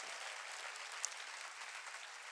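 A church congregation applauds at a Porte Ouverte service, steady dense clapping heard from some distance, quiet but continuous throughout.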